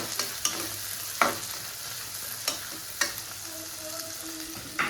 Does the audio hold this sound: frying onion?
yes